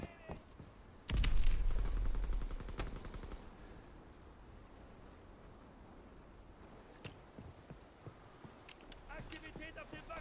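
Enemy rifle fire in Call of Duty WWII, set on a ship deck under attack, with a loud close burst of shots followed by scattered fainter cracks over a busy battle din, with shouted voices throughout.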